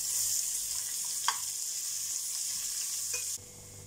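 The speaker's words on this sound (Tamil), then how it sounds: "இப்போ நம்ம வந்து வெங்காயம் சேர்த்துடலாம், கூடவே பச்சை மிளகாயும் சேர்த்துடலாம். நல்லா வதக்கிக்கோங்க." Onion and green chilies sizzle in hot oil for a cashew pulao, a dense close hiss with a few light utensil clicks, cutting off abruptly near the end.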